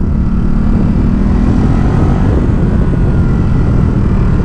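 A Ducati Supersport S motorcycle engine drones loud and steady, with a dense low rumble throughout and strong wind buffeting, and no voices.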